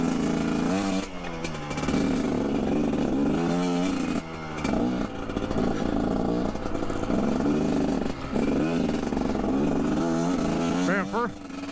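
A GPX Moto TSE250R motorcycle (2021.5 model) ridden along a rough ATV trail, engine revving up and down with uneven throttle and clatter, loud and close, with a person talking over it.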